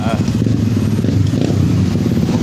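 A motorcycle rumbles along a dirt road in a steady, loud, continuous drone with rattly clatter, while people talk over the engine.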